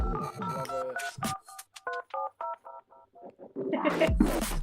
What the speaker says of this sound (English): I love the phone sound.